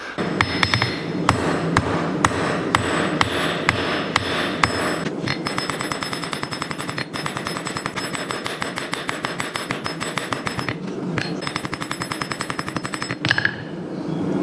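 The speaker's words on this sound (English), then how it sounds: "we'll just start right here with the peen, which is a really effective way, gets the material moving really quickly" A forging hammer's peen strikes hot metal on an anvil, a close run of sharp ringing blows that begins in a steady beat and speeds into rapid, regular strikes for about fourteen seconds.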